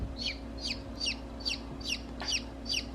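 A young rooster gives a run of about seven short, evenly spaced clucks over a steady low background hum, fairly close and moderately loud with no talking.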